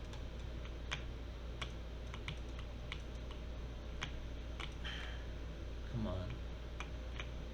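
Computer mouse and keyboard clicking at a desk, a sparse series of sharp clicks and key taps over a low hum, with a brief spoken voice.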